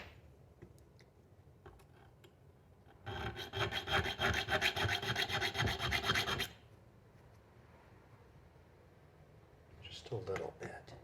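A round Bahco file works a piece for a jaw harp in a quick run of close, rhythmic rasping strokes lasting about three seconds, set between quieter stretches with light handling noises.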